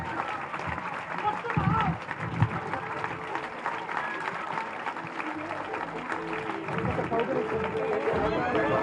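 An audience at a school program claps and cheers in a hall, dense sustained applause mixed with crowd babble and a voice speaking over it throughout.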